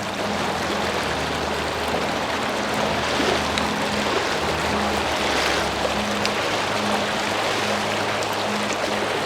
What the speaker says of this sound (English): So this is where the river is